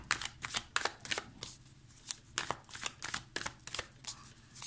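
A deck of witches' tarot cards is shuffled by hand up close, a rapid run of crisp riffling snaps and soft slides in an uneven, repeating rhythm with no voices.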